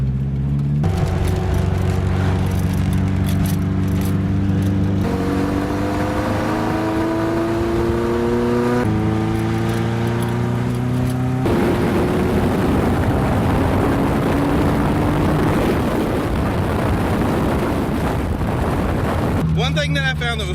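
A Toyota AE86 drift car heard from the passenger seat, its engine loud and close, revving up through the gears in repeated rising sweeps with shifts between them, then a long strained pull and a drop at the end.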